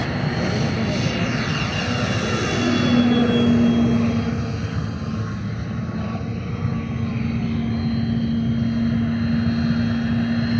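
A Black Horse Viper XL electric ducted-fan RC jet with a WeMoTec Midi EVO motor drones steadily overhead, a continuous whooshing fan roar with a high whine that shifts slightly in pitch as it passes, loud and unbroken throughout.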